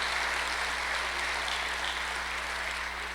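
A church congregation claps for the Lord during a sermon, a steady, moderately loud wash of many hands with a constant low electrical hum underneath and no voices.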